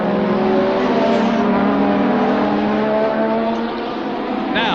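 Formula 1 race cars crossing the line at Brands Hatch in 1985, a loud continuous engine roar with high whining harmonics that holds steady and shifts pitch slightly as the cars pass, with a sharp rise near the end.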